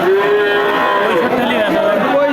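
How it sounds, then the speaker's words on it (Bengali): A farm-purpose bull calf at a cattle market lets out one long, loud, close moo that wavers in pitch, with faint crowd chatter behind it. "আপনারা শুনলেন দর্শক এই যে বাছুরটা খামার উপযোগী সার বাছুর"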